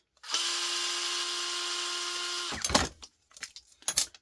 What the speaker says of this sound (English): So in with the screws.